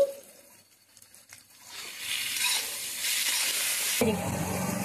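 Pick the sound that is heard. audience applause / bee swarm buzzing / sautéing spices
sautéing spices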